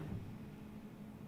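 Computer fan whirring in the background, a low, steady, faint broadband hum with no speech over it.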